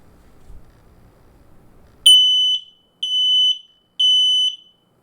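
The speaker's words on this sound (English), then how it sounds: "click the test button up here so you can see it to start the self-test on the alarm" Three loud, piercing beeps from an X-Sense WiFi smoke detector's self-test, each about half a second with stuttering pulses, follow a quiet moment of faint rustling.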